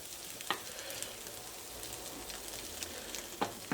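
Diced ham sizzles and fries in melted butter in a pan, a soft, steady crackle with a few sharper pops and clinks of stirring, quiet and close.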